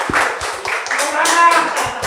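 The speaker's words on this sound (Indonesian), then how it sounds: "Tepuk tangan untuk Budi Adiputro" A stand-up comedy audience claps as comedian Budi Adiputro is called onstage, a busy scatter of hands heard under an emcee's voice.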